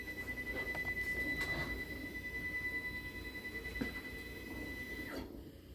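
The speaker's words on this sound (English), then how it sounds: "we're going to go ahead and follow that recommendation and jog this machine closer to the limit switches" Crossfire Pro CNC plasma table jogging its gantry toward the limit switches: a steady faint motor whine and mechanical hum with a high sustained tone, ending abruptly near the end.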